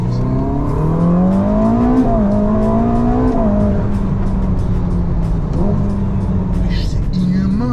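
A Ferrari SF90 accelerating hard, its engine note climbing loud and close in repeated surges with shifts in pitch, while people talk excitedly over it.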